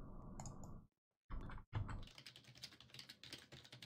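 Quick clacking of computer keyboard keys in short bursts, close and fairly quiet, broken by a brief pause partway through.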